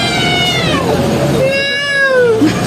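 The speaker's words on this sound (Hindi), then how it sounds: "ये कैट्स तो म्याऊं म्याऊं कर ही रही थी" Cats meow loudly and close by, two long, drawn-out wailing meows with a slightly aggressive, caterwauling edge, one after the other.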